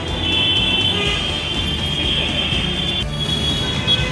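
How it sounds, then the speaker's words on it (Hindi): A metro train departs nearby, rumbling steadily with a high metallic whine and wheel squeal over the heavy low roar of moving carriages. "यहाँ से चली मेट्रो।"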